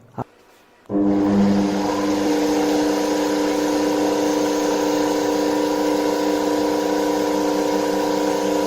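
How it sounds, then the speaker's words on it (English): A homemade electric motor switches on abruptly after a brief silence, then runs with a steady, loud hum carrying strong tonal harmonics, unbroken and without talk. "Oh, you see, the motor is turned on."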